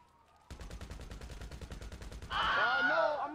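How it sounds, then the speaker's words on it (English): Rapid, evenly spaced police gunfire in GTA 5 Online rattles off as a steady run of about twenty shots. It breaks into a louder, noisier wash with shouting-like tones at the end. "I'm getting shot by the police."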